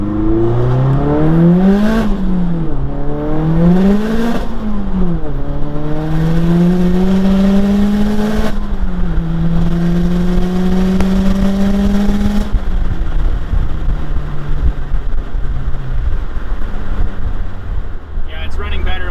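A big-turbo Mazdaspeed 3 running about 25 psi of boost on a lean mixture accelerates hard in first gear, its loud engine note climbing and dipping through several surges under heavy wind buffeting inside the car.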